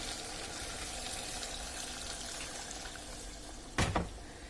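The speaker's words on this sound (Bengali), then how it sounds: "তো এখন আমি এর মধ্যে গরম পানিটুকু দিয়ে দিচ্ছি" Hot water pours in a steady, soft rush into a pot of beef and potato curry over a low background hiss, then a brief sharp clatter sounds near the end.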